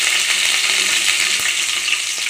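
Curry leaves dropped into hot oil for a Tamil salna recipe, a loud, continuous hiss and crackle of frying close by, steady throughout with faint clinks, no speech.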